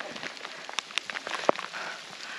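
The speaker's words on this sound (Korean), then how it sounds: "비가 많이 와요." Sudden rain shower falling on a mountain campsite amid silver grass fields on a ridge, a steady hiss of drops with a few sharper pattering hits, moderately faint and without talk.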